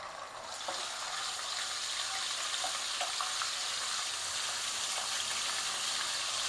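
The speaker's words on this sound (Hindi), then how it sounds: "लहसुन अदरक पहले फ्राई करेंगे।" Garlic ginger paste fries in oil in a pan, giving a steady, bright sizzle with faint stirring clicks, close and continuous after a brief soft start.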